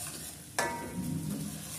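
Spices for rajma masala are stirred and roasted in a hot pan, giving a soft, steady sizzle with a sharp scrape of the spoon partway through, close by and with no voices.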